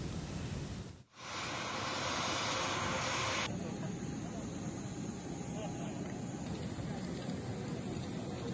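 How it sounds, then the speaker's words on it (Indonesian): A Boeing 737-800 airliner lands at Nusantara airport, its engines and airflow making a loud, steady broadband roar that continues throughout after a brief dip near the start. "Bandar Udara Nusantara di IKN kini sudah bisa didarati pesawat besar sejenis Boeing"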